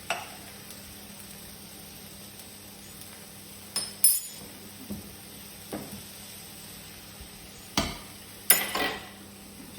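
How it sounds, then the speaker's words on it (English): A fork stirs noodles in a pan for spicy salmon noodles, giving faint sizzling under a handful of scattered metallic clinks and scrapes spaced several seconds apart. "Just use a fork to stir your noodles"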